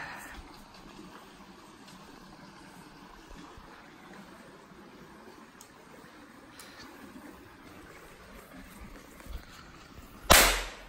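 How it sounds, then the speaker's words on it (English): A single sharp firework crack bursts out near the end of a quiet outdoor Fourth of July stretch, loud and abrupt after several seconds of low background hiss. "So that is the fireworks stuff."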